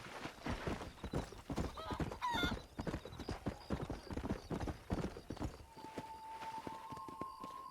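Horse hooves pounding at a steady gallop in the Red Dead Redemption video game, a dense rapid clip-clop close up with a brief whinny partway through and a faint tone rising near the end, no talking.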